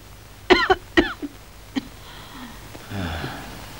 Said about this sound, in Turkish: şimdi sıkıca öksürün